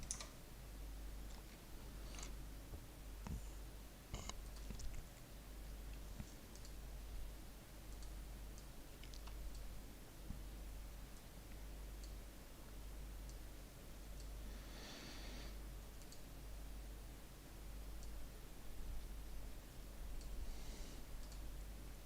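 Someone types on a computer keyboard in a quiet room, making sparse, faint individual key clicks over a low steady hum. Nobody speaks.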